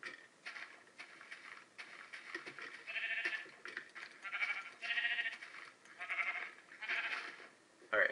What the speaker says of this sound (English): Was that sheep? Sheep, sheep, sheep.